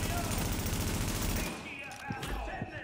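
Sniper gunfire in The Division video game: a dense burst of shots and impacts fills the first half, then sparser cracks and clatter follow, loud and close with a voice faintly present.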